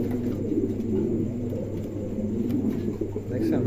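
A large adult male American lakka pigeon coos in low, soft, repeated murmurs close by, set against a steady background hum with no talk.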